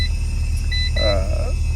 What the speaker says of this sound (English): Beeping's gonna go off here.